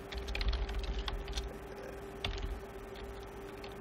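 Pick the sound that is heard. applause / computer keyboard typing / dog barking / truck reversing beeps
computer keyboard typing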